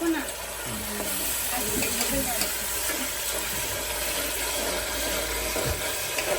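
Onion and garlic paste with tomato frying in a pan while mutton curry is cooked at home, giving a steady close sizzle and hiss with faint stirring scrapes throughout.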